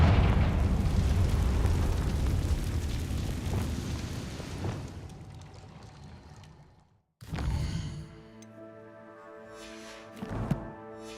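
A Confringo blasting spell bursts in Hogwarts Legacy with a loud, rumbling explosion that decays over several seconds, followed after a brief silence by lighter magical chimes and a smaller pop.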